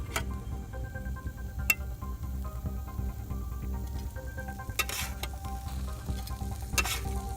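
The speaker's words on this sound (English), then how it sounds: "Hear that sizzle coming back?" Steady close sizzling of burgers on a hot Lodge Sportsman charcoal grill, with a few sharp clinks and crackles breaking through the hiss.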